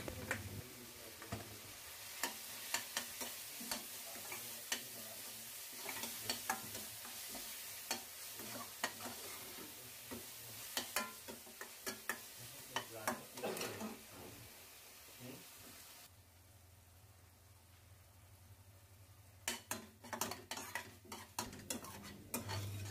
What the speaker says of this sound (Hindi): अब इन सबको अच्छी तरह से मिक्स कर देते हैं और थोड़ा सा पका लेते हैं